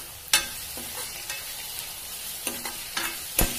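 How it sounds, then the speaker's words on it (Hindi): Turmeric, coriander and garam masala being stirred in a pan for malai kofta, a soft background sizzle broken by several sharp spoon knocks and scrapes against the pan, close up with no voices. "अब हमें इन मसालों को मिक्स करना है और ढक के रख देना है"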